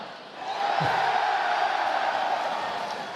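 A live convention crowd at BlizzCon 2017 erupts in a sustained roar of cheering and whooping, loud and continuous for the whole stretch after a brief quieter moment at the start.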